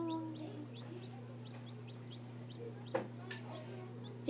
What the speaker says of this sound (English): Yeah, it's a chicken.